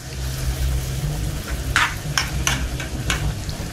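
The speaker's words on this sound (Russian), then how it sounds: "Жарим пока. Пока не появится у нас характерный цвет." Soup ingredients fry in a pan until they turn slightly reddish, giving a steady close sizzle with a low hum beneath and a few sharp scraping stir strokes.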